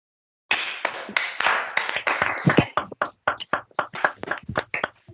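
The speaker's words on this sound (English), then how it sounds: "Please, everybody clap for her." A design school class clapping for several seconds, dense at first then thinning into scattered, uneven claps near the end.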